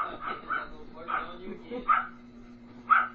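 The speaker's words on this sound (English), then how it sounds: "Blue is barking at Cadillac" A dog gives several short, sharp barks at regular intervals, heard at moderate distance under people talking.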